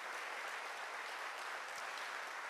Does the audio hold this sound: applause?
yes